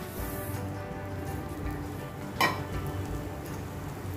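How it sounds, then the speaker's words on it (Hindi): Semolina being stirred into hot ghee with cardamom, a faint steady sizzle with soft scraping and one brief clink of a utensil against the pan. "अब हम इसके अंदर रवा ऐड कर देंगे।"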